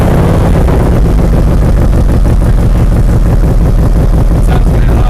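A Harley-Davidson motorcycle fitted with Moonshine high-output exhaust pipes, set up for dyno tuning, rumbles and revs steadily with a deep, loud, pulsing low-end exhaust note throughout, close by.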